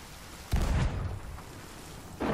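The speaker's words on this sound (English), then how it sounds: "It's where lightning just struck him." A lightning strike crashes during a stormy ship battle in the pirate video game Sea of Thieves, a loud low boom that swells suddenly and rumbles on under steady rain before a second burst near the end.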